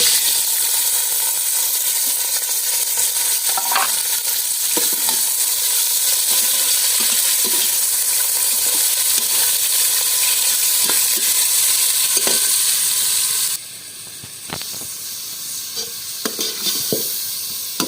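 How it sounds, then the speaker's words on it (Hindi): Chicken frying in ghee in a village kitchen, a steady loud sizzle with repeated stirring scrapes, growing quieter and more sporadic near the end. "हमने चिकन डाल लिया घी में"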